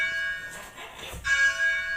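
A church tower bell at Kirkburton being rung up by rope, sounding a single resonant clang with a lingering metallic hum, heard close and fairly loud against a quiet background.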